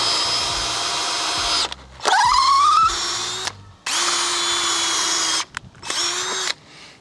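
A power drill bores hinge holes in a wooden gate, whirring in several close, loud runs of one to two seconds each, some rising in pitch as the bit spins up, with brief stops between.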